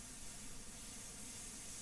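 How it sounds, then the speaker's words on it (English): An airbrush sprays India ink or paint in a steady, soft, continuous hiss that stays even and close throughout, with no breaks or talk. "Working with the airbrush"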